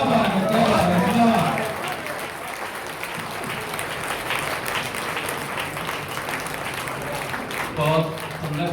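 Audience applause following a Hindi poetry recitation at a gathering, a dense wash of clapping that runs throughout, louder at the start and swelling again near the end, with a voice speaking briefly over it at the beginning and end.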